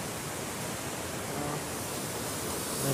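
Lirong Falls waterfall in Catmon, Cebu, a steady broadband rush of falling water that holds constant and fills the scene, close and loud with no talk over it.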